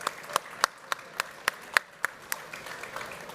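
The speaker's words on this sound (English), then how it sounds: "please give our panelists a big round of applause" Conference audience applauding panelists at a wind energy event in Hamburg, a thin scattering of distinct claps, fairly sparse and tapering off toward the end.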